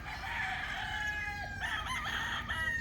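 Gamefowl rooster on a farm crowing loudly and nearby, a drawn-out call followed by a second burst of crowing from another bird, over faint background noise.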